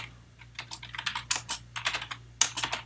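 Keys clatter on a computer keyboard as a C++ cout statement is typed, giving close, irregular bursts of clicks over a faint steady hum.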